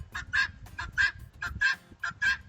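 Repeated loud honking calls from goose-like fowl, paired in a quick rhythmic series, close and harsh, with no other sounds.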